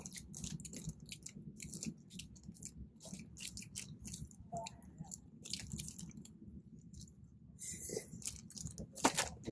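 Hardtack crackers being chewed and eaten up close, with soft crunching and moist mouth sounds repeating steadily throughout and a louder bite near the end.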